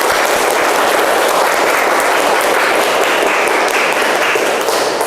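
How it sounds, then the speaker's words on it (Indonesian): A classroom group claps loudly and energetically in a dense, uninterrupted burst of rapid hand claps that stays steady and close for the whole stretch. "Oke, silakan tepuk tangan."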